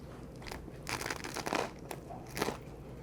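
Biting into a dry, crunchy air-fried egg roll filled with pork and shrimp, a few close, sharp crunches and crackles of the crisp wrapper, with quiet pauses between bites.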